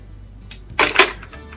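Hair clip snapped shut while styling a puff at the back of the hair: a faint click, then two sharper plastic snaps close together, near and alone in a quiet room.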